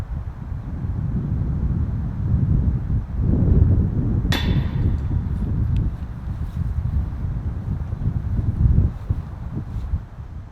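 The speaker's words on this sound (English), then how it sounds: "we'll hear a little bit of that wind" Steady outdoor wind buffeting a microphone on a golf course, a continuous low rumbling roar with gusts swelling and easing, plus one sharp brief knock partway through; no speech.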